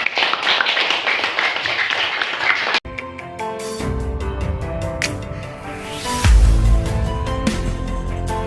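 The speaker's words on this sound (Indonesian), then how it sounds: "Untuk hari ini kita aplaus semua." A physics class applauds together: a burst of clapping hands, loud and close, gives way after a sharp cut to quieter tapping and background music.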